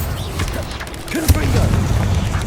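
Bombarda explosion spell in a Harry Potter-style video game, a loud booming blast with a sharp burst near the middle, rumbling low under game noise and a voice.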